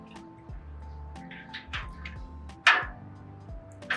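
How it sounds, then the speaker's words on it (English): Fabric dye liquid being stirred in a container, giving soft, faint sloshing and dripping swirls with a few sharper splashy accents over a low steady background. "So I'm gonna go ahead and stir, stir, stir, and I'll do a napkin test."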